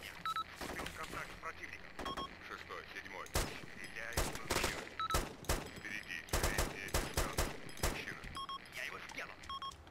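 Gunfire in the military shooter Arma 2, many sharp shots in irregular clusters with a few machine-gun bursts, fairly close, mixed with short electronic beeps and someone talking at times.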